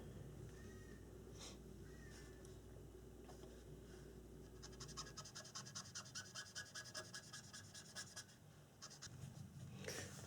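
Green Sharpie marker drawn along the edge of paper during a bathroom toilet drain replacement, a faint, close run of short rhythmic scratchy strokes following a quieter low hum.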